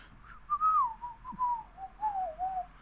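Someone whistles a song tune: a clear, wavering melody of several sliding notes in short phrases, fairly close and alone with no talking.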